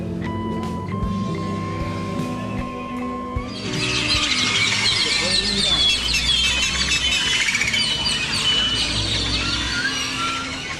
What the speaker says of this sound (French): les oiseaux tiennent un conciliabule qui cessera d'un coup au coucher du soleil